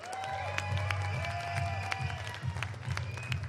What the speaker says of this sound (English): one big applause for Rich King and Rich King Coaching.